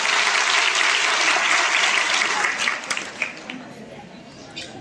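Audience applause inside a hall at a public event, a dense burst of clapping that thins out and fades after a few seconds, with scattered final claps.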